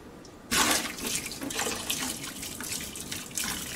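Hot water gushes from a tap into a pot underneath, starting abruptly and running steadily with splashing, close and fairly loud.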